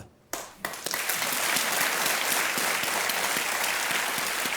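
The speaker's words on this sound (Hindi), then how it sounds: "एक बार फिर तालियों के साथ हम इनका अभिनंदन करते हैं" Studio audience on a Hindi TV quiz show bursts into sustained applause after a brief quiet moment, dense steady clapping filling the room and holding strong to the end.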